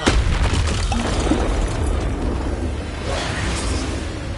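Expulso explosion spells detonate in the Hogwarts Legacy video game, a dense run of loud booms and bursting blasts with whooshing debris, continuous and close.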